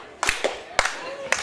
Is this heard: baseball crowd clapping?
yes